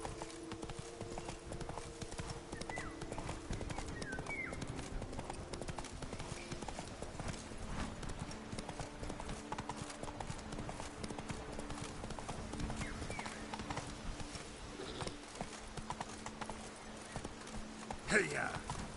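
Roach, a horse in the video game Witcher 3, gallops in steady clip-clop hoofbeats with an occasional whinny, heard throughout over game ambience while a voice speaks.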